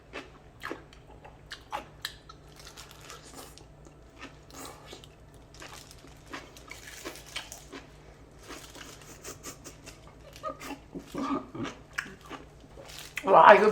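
Crunchy minari and radish kimchi is bitten and chewed up close in quiet, scattered crisp crunches that become louder and denser toward the end.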